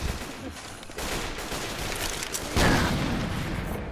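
Sustained gunfire from explosive shotgun shells in the Left 4 Dead 2 swamp level, dense booming blasts that grow louder and heavier partway through, with no talking.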